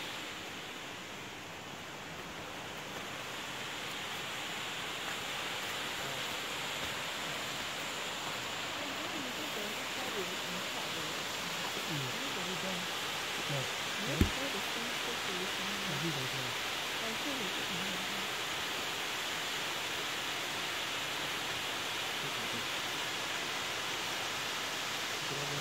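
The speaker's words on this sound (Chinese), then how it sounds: "那么就是这个瀑布啊" Wentworth Falls waterfall in Australia, a steady broadband rush of falling water heard from a distance, constant and fairly faint, with a single sharp knock partway through.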